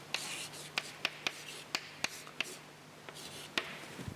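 Marker or chalk tapping and stroking on a board during a tensor math lecture, a series of sharp, fairly close ticks and short scratches in an uneven rhythm over a faint steady hum, no talking.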